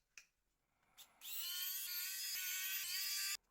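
Small screws being removed from a Nokia 2323c phone with a small electric driver, a brief close whine lasting about two seconds after a couple of faint clicks, in a quiet room.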